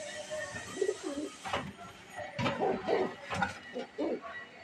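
Pigeons of the Motiyari and Janga breeds coo in repeated soft, throaty bursts, several birds calling close by in an uneven rhythm with brief pauses between phrases.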